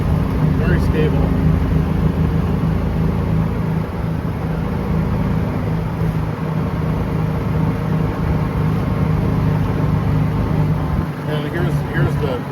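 Club Car gas golf cart with a high speed differential gear cruising at about 27 miles an hour, a steady smooth engine hum and road rumble running continuously, fairly close.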